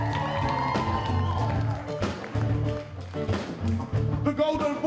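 Audience cheering and clapping at a live concert, mixed with ongoing band music and a bass line, lively crowd noise rising and falling over the performance.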